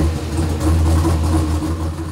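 Upgraded twin-turbo 5.3 V8 under boost testing roars with a loud, steady, deep drone, sustained and close with no pauses or voices.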